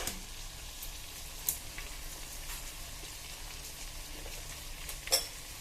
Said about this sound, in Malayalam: അങ്ങനെ ഇളക്കി കുറച്ച് ചോറിട്ട് എല്ലാം റെഡിയാക്കി എടുക്കണം നമുക്ക്